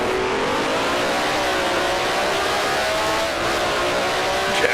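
A 1968 Formula One race car engine in Grand Prix Legends roars at high revs, loud and close, with a continuous rising and falling whine throughout, alone with no voices.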